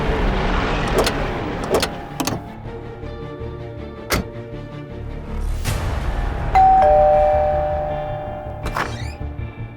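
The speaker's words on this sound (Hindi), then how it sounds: "अभी थोड़ी देर पहले डोरबेल बजी थी" A doorbell gives one ding-dong chime partway through, ringing out clearly among scattered sharp clicks and thumps in an indoor scene.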